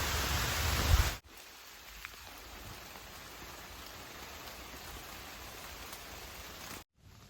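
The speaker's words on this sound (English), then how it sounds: "First rain." Rain falling on the Appalachian Trail in Pennsylvania: a soft, even patter of drops. A louder burst comes at first, then a cut, then a faint steady hiss to the end.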